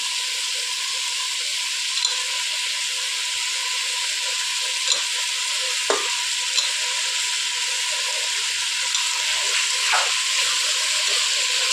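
Mushroom biryani masala sizzles and fries in a pot, a steady hiss of oil with occasional scrapes and clinks of a spoon as the mixture is stirred, close and continuous without talk.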